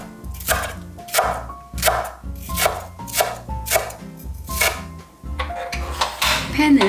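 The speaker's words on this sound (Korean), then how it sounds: "초록 부분도 똑같이 칼금을 넣고 송송 썰어서 따로 담아주세요." A knife slices green onion on a cutting board in quick, steady chops, grouped in short bursts over soft background music.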